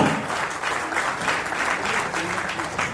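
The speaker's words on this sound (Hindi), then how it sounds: "सर के लिए जोरदार तालियां।" A crowd claps loudly and continuously, dense applause filling the whole stretch without pause.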